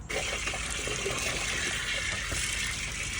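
Water pours steadily onto potato plants growing at home, a continuous close rush and splash lasting a few seconds with no talking.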